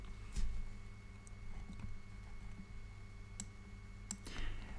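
Mouse clicks on a computer while working in Excel, a few faint, sharp clicks scattered over a quiet room background with a steady low hum.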